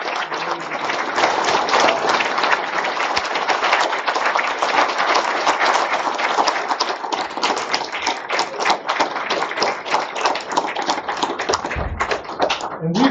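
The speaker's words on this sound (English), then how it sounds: "So one last round of applause to these kids who just did." Applause for students at a school board meeting, a room of people clapping loudly and continuously with crisp overlapping claps, building briefly then tapering off near the end with a few thumps.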